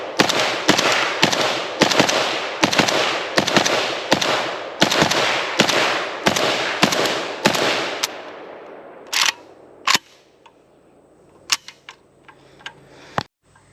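Loud, evenly spaced gunshots ring out close by, roughly one per second, as a second magazine is fired through a gun with a double hook trigger, followed by a few sparse clicks and clanks.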